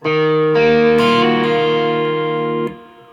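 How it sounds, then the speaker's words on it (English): An electric guitar rings out a few sustained chords with mild overdrive grit from an MXR Timmy pedal, then trails off into a springy reverb tail. "I've got a slight bit of overdrive using an MXR Timmy pedal and a spring reverb"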